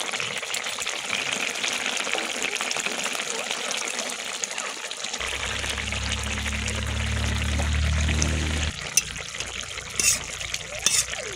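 Koi fish go into a cooking pot of spinach and taro curry with chicken, giving a steady watery, splashing pour and simmer, with a low rumbling bubble swelling midway and a few soft clunks near the end.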